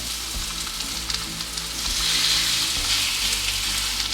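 Chicken searing in olive oil in a pan gives off a steady close-up sizzle that swells louder about halfway through, with a faint low rumble beneath and no voices.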